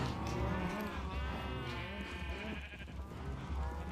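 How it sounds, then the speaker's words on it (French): Several sheep bleat in the Minecraft video game, with overlapping wavering calls close by over a noisy, busy background and faint talk. "Reproduisons les moutons aussi."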